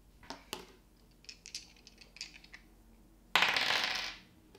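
Dice clatter during a game of Clack, the magnetic stacking board game: a couple of sharp taps, scattered light rattles across the table, then a louder burst of rattling that fades out.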